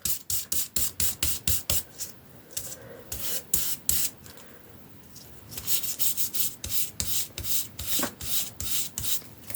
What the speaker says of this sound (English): I think what I'll do is distress this.